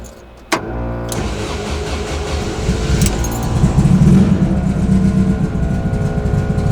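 Engine-swapped widebody VW bus starting with a sharp crank, then idling and warming up, a steady rumbling drone that grows slightly louder and rougher partway through, heard alone at close range.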